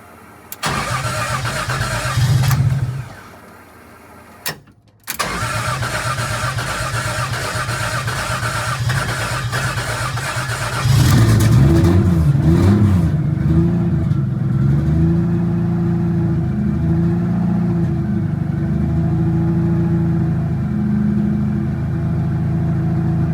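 Toyota 2JZ NA-T engine with forged rods and pistons and a fixed head gasket, cranking in a steady, uneven churn for about eleven seconds, then catching and settling into a loud, lumpy idle that warbles, heard alone.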